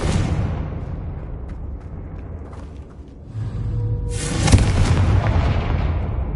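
A Confringo fire spell explodes in Hogwarts Legacy, a low rumbling burst building to a sharp boom near the end, with a dark rumbling bed beforehand.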